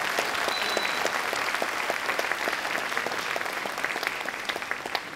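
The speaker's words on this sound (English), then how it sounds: "let's just start off with a round of applause for all our award recipients" An auditorium audience at a middle school academic awards evening applauds its award recipients, dense continuous clapping with many distinct hand strikes, steady and fairly close for the whole stretch.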